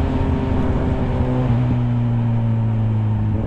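Cars stuck in traffic on a mountain highway drone with steady engine hum and a low idling tone, close and continuous with no talking.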